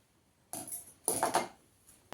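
Scissors cutting the back neck of blouse fabric during tailoring: a couple of short, crisp snipping bursts close by, with quiet gaps and a small sharp click at the end.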